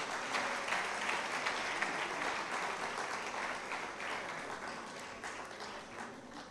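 Steady applause from a large crowd fills the space, a dense wash of clapping that slowly eases off.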